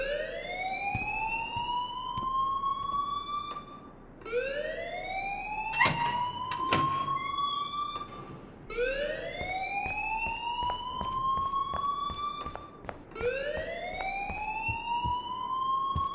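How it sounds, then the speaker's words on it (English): A rising-and-falling alarm wails repeatedly through a school hallway in the game Life is Strange, each sweep climbing then holding for several seconds, loud and continuous, with sharp clicks and bangs cutting in now and then and no talking. "please turn off that alarm since that's your job"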